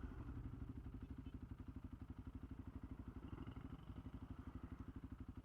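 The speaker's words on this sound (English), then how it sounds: "They're all on little bikes." A group of small motorcycles rides past on a narrow road along the Wild Atlantic Way, their engines making a faint, steady, pulsing putter with light clatter throughout.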